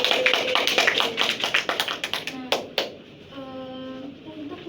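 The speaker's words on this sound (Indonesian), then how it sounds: "Tepuk tangan buat temannya" Classmates in a school classroom clapping for a fellow student, a quick run of close, rhythmic hand claps that stops abruptly, followed by a short spoken voice.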